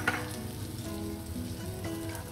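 Garlic and ginger hit hot oil in a wok for cauliflower Manchurian, a close, steady sizzle and crackle that continues evenly for a couple of seconds with no voice.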